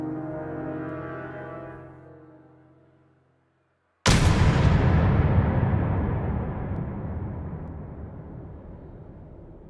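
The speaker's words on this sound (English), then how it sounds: "The scene fades to black, and a gunshot is heard" A single gunshot rings out in a Destiny cutscene, a sudden loud crack after a fading low drone and a moment of silence, followed by a long booming echo that slowly decays.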